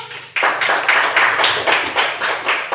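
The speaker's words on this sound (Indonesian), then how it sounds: "Ya, tepuk tangan dulu." Children in a classroom lesson on traffic rules clap their hands together in a rhythmic pattern, loud, close, regular bursts starting abruptly after a short pause.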